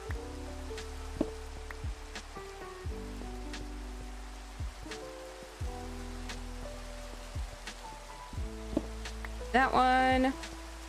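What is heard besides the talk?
rain falling in the video game Minecraft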